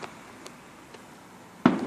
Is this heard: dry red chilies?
no